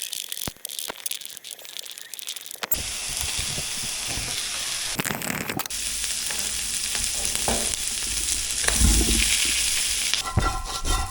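Onions cooking in a pan give quiet scattered clicks at first, then a sudden, sustained loud sizzle and hiss with occasional stirring scrapes and a brief surge near the end.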